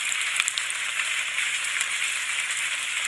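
Heavy storm rain in a horror cartoon, a steady dense hiss of falling water with occasional faint drips and patters, even and unbroken throughout.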